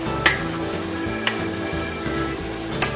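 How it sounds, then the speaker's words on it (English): Sausage and potatoes with peppers frying in a pan, turned over with a spatula: continuous close sizzle with a few sharp scraping taps of the spatula against the pan. "I'm just taking it and kind of flipping it with the sausage"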